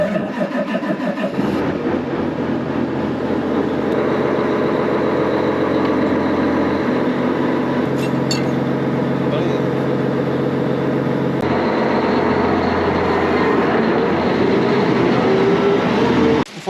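One of the largest John Deere tractors ever built backs up slowly. Its big engine gives a loud, constant diesel drone close by, with a deep low rumble throughout and a few faint clanks.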